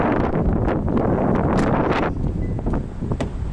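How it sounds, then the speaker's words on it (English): Strong, cold wind blows outdoors around a parked 2021 Kia K5 GT-Line AWD, battering the microphone with loud, gusty roaring rumbles and swirling bursts that continue without any speech. "it's very cold and windy today"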